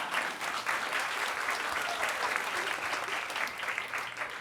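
A convention panel audience claps in a sustained, even wash of applause from many hands, moderately loud, with no talking over it.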